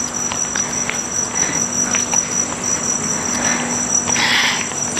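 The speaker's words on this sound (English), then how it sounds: "the cricket's somewhere in there, chat. Do you hear it? It's so loud." A single cricket chirps loudly and steadily inside a hotel room in Cebu, its shrill high trill continuous and close over a faint room hum, with no talking.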